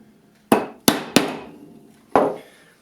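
A chisel pares wood while cutting inlaid dovetails, making four sharp, close knocks with brief decays: three come in quick succession and a final strike follows after a pause.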